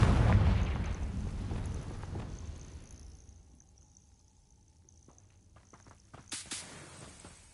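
A Confringo spell blast in Hogwarts Legacy booms heavily up close, then rumbles away into a quiet stretch, followed by a few sharp cracks and snaps near the end, with no talk.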